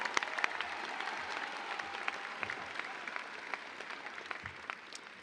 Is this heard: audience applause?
yes